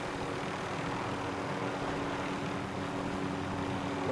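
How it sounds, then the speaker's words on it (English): Attack helicopter in the video game Blood Money, a steady droning rotor and engine hum at moderate distance, continuous and fairly quiet with no voices. "Enemy attack chopper is in the AO."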